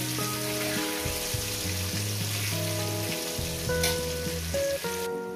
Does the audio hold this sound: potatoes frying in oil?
yes